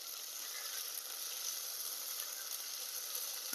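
Onion sizzles gently in a pan with ginger garlic paste and green chillies, giving a faint, even hiss throughout with no voices.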